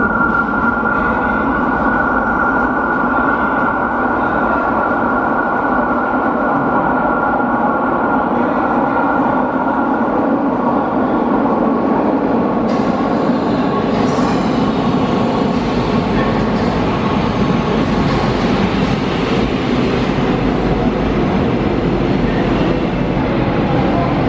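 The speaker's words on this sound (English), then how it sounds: "Metro." A Lisbon metro train rumbles loudly and steadily for over twenty seconds, a dense, constant roar of wheels and carriage noise with some rising metallic squeal toward the end.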